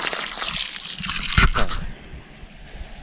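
Water poured from a hose or can onto strawberry beds soaks into the soil, a steady close trickle and splash that swells briefly and then drops to a quieter dribble.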